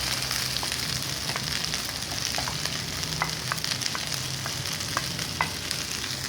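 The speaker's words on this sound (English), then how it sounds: "To the heated oil, I'm adding the bhendis and the chopped" Okra and chopped onion fry in heated oil, a soft continuous sizzle with scattered crackles and occasional stirring clicks, fairly quiet and heard alone.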